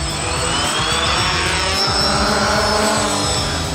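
A quadcopter drone lifting off for aerial photography, its rotors giving a steady, loud, close whirring buzz that holds evenly throughout with no pauses.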